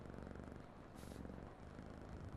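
A pet cat's purr in the video game Quarantine Zone: The Last Check, a soft, steady rumbling drone that runs continuously at low volume with no talk over it.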